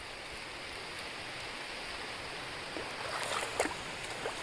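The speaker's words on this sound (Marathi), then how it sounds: "बेफाम पाऊस आहे बेफाम." Heavy monsoon rain pours near a flooded bridge above paddy fields in Devgad, a dense continuous hiss with a few sharper splashes and drips toward the end.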